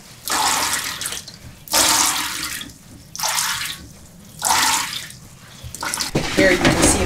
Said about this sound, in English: All draining out